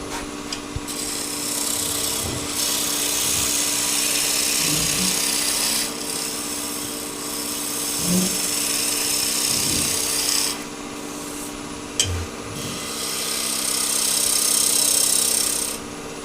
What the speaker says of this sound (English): let's raise the tool rest and just skim that nice and clean with a skew